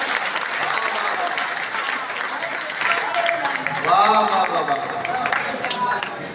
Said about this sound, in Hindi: और जरा जोरदार तालियां मेरे कहने पर